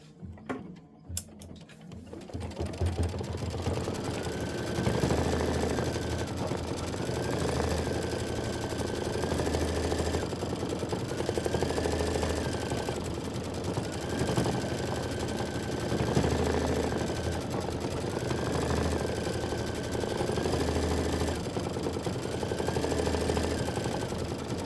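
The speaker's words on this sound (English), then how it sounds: "Stitch the flower satin outline. I'm just going to go ahead and hit start." An embroidery machine stitches a satin flower outline on a quilt block, a continuous busy mechanical hum with a repeating rising-and-falling motor tone, steady and fairly close after a brief clatter at the start.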